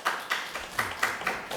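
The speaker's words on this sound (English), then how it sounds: "How about a round of applause for Eastern Charlotte Fire and Rescue?" Scattered audience clapping at a municipal council meeting for Eastern Charlotte Fire and Rescue, a few sparse claps in uneven bursts, fairly faint and brief.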